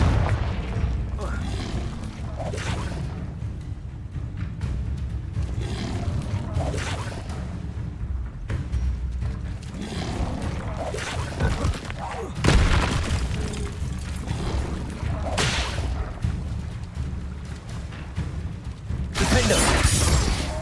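Confringo fire spell blasts in Hogwarts Legacy, several booming explosions with crackling bursts and debris amid dense battle noise and music, with a strong hit near twelve seconds and another near the end.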